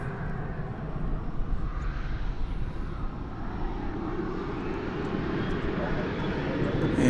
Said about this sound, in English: American Flight 1884 is lifting off, or getting ready to lift off for Santa Ana, California